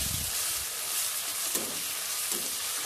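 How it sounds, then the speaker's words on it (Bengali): Ginger, garlic, onion and spices fry with soy sauce and tomato ketchup for a Bangladeshi Mejbani beef dish, a steady soft sizzle with a few low scraping stirs, close and alone. "আরও কিছুক্ষণ আমি এই মশলাগুলো ভেজে নিচ্ছি"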